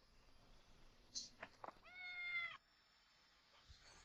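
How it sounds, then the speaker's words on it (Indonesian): A cat gives a single clear drawn-out meow, close and moderately loud, with a few soft knocks and rustles just before it in an otherwise quiet room. "Hampir mati ketakutan. Ternyata cuma kucing."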